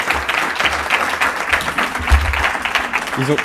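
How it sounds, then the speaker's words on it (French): A hackathon closing-ceremony audience applauds mentors and jury members, a brisk dense round of clapping with some low voices underneath. "On peut les applaudir, je pense."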